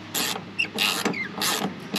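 An 8mm socket wrench working bolts on a Cfmoto Cforce 520 ATV during a drive belt check, giving rapid ratcheting clicks in three or four short close bursts.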